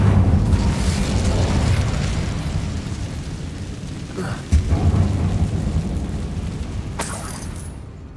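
An Incendio fire spell blast in Hogwarts Legacy on PS5, cast inside a dark tomb, producing a loud, rumbling roar that booms continuously, with a sharp burst midway and a bright crackling flare near the end.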